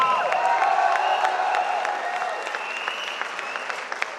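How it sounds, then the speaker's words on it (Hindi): A live audience at a poetry recital applauds a young poet of romantic verse, steady dense clapping from a large crowd that holds evenly and thins slightly toward the end. "एक बार जोरदार तालियों के साथ इस युवा श्रृंगार रस के कवियों को प्रोत्साहन करें"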